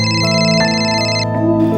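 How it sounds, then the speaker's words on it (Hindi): A phone ringtone plays a steady, loud electronic melody of layered tones, close and alone without any talk, for under two seconds. "लो, शरद का फोन है"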